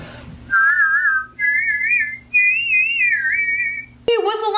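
A bright, wavering double whistle blown from both sides of the mouth, carrying two close pitches at once, in three sustained phrases over a low steady hum, then a sudden burst of other sound.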